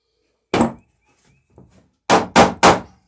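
A hammer strikes a copper rivet burr on a cruising dinghy's bottom: one sharp clang, a couple of faint taps, then three loud ringing blows in quick succession, close and alone.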